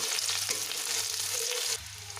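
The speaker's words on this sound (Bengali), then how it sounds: "পেঁয়াজটা একটু ভেজে নিতে হবে হালকা লাল করে" Chopped onions fry in hot oil with black cumin seeds in a pan, a dense, close, continuous sizzle that drops slightly in intensity near the end, with no voices.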